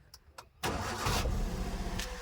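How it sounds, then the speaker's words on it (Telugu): A 2018 Maruti Suzuki Wagon R VXI petrol car cranks briefly, catches on the first try and settles into a steady, close idle. "ఒకటే కిక్ స్టార్ట్ అయిపోయింది."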